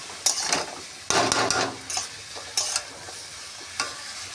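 Pumpkin greens and stems are stir-fried in a pan for a Bengali fish curry, with sizzling and repeated scraping strokes of a spatula against the pan, close and fairly loud between short pauses.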